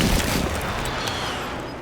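Dense, continuous gunfire in the battle-royale shooter Warzone, a steady roar of overlapping shots with heavier rapid bursts at the start, fairly loud and with no talking.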